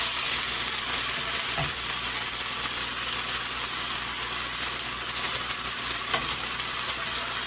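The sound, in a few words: ground beef frying in its own fat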